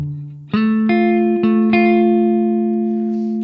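Guitar phrase: a low note followed by four plucked attacks that build a ringing chord, notes layered and sustained, clean with a touch of reverb, played alone and close.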